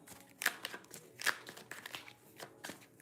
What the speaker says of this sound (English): Give it a good shuffle, right?